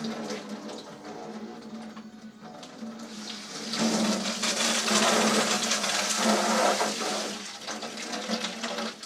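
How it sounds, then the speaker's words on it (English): Water pours steadily into a 55-gallon bucket of sugar syrup for honeybees, a continuous splashing rush that swells louder midway, with no talking. "It ain't gonna hurt it too bad if you add a little bit extra water."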